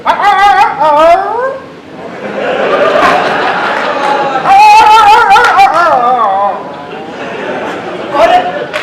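A performer in a Punjabi Pakistani stage comedy vocally imitates a barking dog, loud close yips, whimpers and howl-like barks in several bursts, mixed with excited speech.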